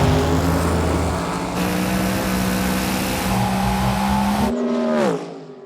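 A drag race car launches with its engine roaring loud and steady while the tires spin, then the sound cuts off and falls away abruptly near the end, no voices.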